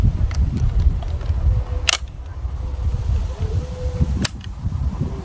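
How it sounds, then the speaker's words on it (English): A rifle bolt, rotated by a cam to lock, is worked. Two sharp metallic clacks come a couple of seconds apart, close and distinct over low background noise. "Straightforward bolt. You can see it uses a cam to rotate the bolt and lock it safely."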